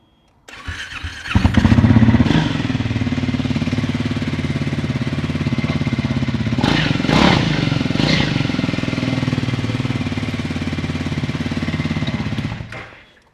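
A Triumph 400X Scrambler motorcycle engine cranks and fires up, then settles into a loud, steady idle with a couple of brief revs before cutting off.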